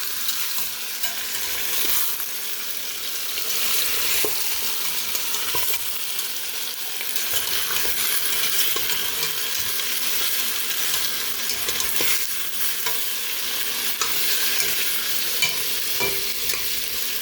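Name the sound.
chicken with garlic being stirred and fried in pot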